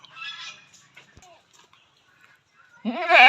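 A crossbred farm goat about 32 inches tall lets out one loud, wavering bleat at the very end, after a near-silent stretch with faint murmured voice.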